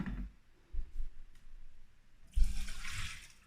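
Water from the container of a Krups Evidence Plus automatic bean-to-cup coffee machine is poured into a kitchen sink: soft handling bumps first, then a short, bright splashing gush near the end.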